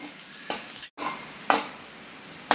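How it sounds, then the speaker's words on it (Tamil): Onion and spices with half a spoon of garam masala being sautéed in a pan, a steady sizzle broken by several sharp stirring scrapes and a brief pause. "ஒரு அரை ஸ்பூனு கரம் மசாலா இதை சேர்த்து நல்லா வதக்கி விட்டுக்கலாம்"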